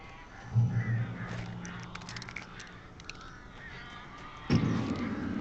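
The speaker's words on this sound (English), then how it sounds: "These birds are weird." Crows caw in the Alan Wake video game, harsh rasping calls starting near the beginning and returning loudly near the end over a low ambient rumble.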